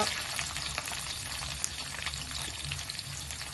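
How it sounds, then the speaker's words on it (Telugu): Onions and green chillies sizzle in hot oil with tempering seeds in a pan, a close, steady crackle and hiss with scattered pops. "ఉల్లిగడ్డలు వేగాయి."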